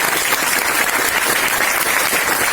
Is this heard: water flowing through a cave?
no